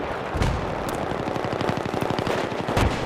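Rapid automatic gunfire in the video game Battlefield 3, sustained bursts of sharp shots with a couple of heavier blasts, loud and continuous with no talking over it.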